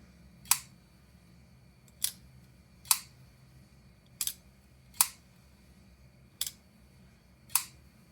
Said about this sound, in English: we have more of a kind of a dull thwack on the way up, and then a nice and clicky close